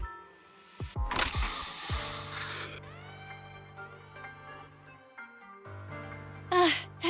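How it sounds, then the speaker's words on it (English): A special Bangboo spray from a video game hisses out in a loud, broad burst lasting about a second, preceded by a couple of sharp clicks, then gives way to mechanical tones and a brief bright squeak near the end. "Have a taste of this special Bangboo spray!"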